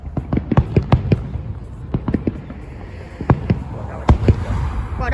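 Fourth of July fireworks pop and crackle in rapid, irregular bursts, some sharp and loud and others fainter, with a continuous rumble beneath, heard from a moderate distance with some voices around.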